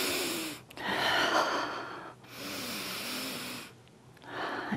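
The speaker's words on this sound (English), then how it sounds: "Let's see if we can take two deep breaths here." Slow, deep breathing during a chair yoga session, with two long airy inhales and exhales and brief pauses between them, close and fairly clear, with no talking.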